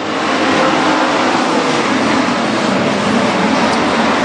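WISSOTA street stock race cars roar past three wide on the Granite City Speedway oval at night, a dense, loud, continuous engine wash with no break.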